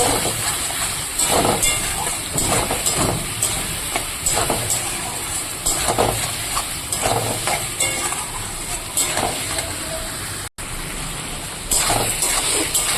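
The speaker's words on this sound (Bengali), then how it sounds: "এর মধ্যে দিয়ে দেবো পেস্ট করে রাখা মশলা তো মশলা দিয়ে দিয়েছি এবার আমি মশলাটাকে ভালো করে সবজি সঙ্গে দিয়ে কষিয়ে নেব" Spice paste fries with mixed vegetables in a pan as it is cooked down, a loud steady sizzling hiss broken by repeated stirring scrapes and bursts of spatter, with a brief dropout near the end.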